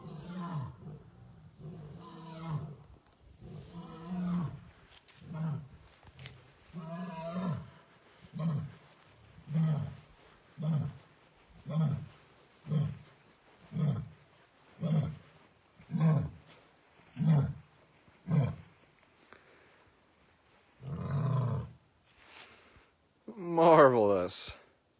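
A lion at The Wildcat Sanctuary roars in a long, loud series of deep rhythmic grunting calls that slow and fade toward the end. A person speaks briefly near the close.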